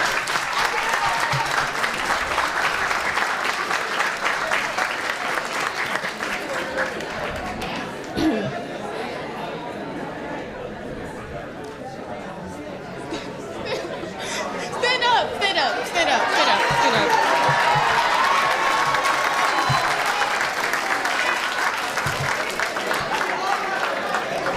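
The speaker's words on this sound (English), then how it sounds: "My fellow graduates, let's give our parents a standing ovation" Sustained crowd applause at an eighth grade graduation, a standing ovation for the parents, with cheering and chatter mixed in; the clapping stays loud and steady throughout, eases slightly midway, then swells again.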